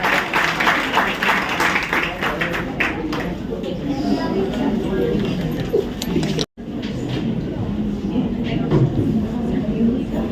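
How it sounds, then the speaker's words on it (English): Audience applause for a speaker being introduced at a hospital event, a dense crowd clapping that fills the room, broken by a brief cut and then resuming just as steadily. "can we have a big round of applause for Dr. Sarita?"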